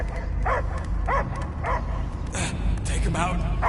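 Several yapping dog barks from a creature in the video game Guardians of the Galaxy, repeating in short bursts about every half second over a low rumbling background, with voices speaking alongside.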